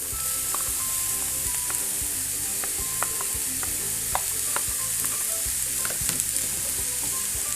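Onions and green chilies frying in oil in a pan for a fish gravy, a steady close sizzle with occasional stirring clicks and scrapes throughout, no talking.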